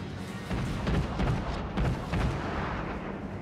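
Battleship main guns fire in World of Warships from the USS Wyoming, a Tier 4 battleship, as a series of heavy booming salvos that roll together over a low rumbling background.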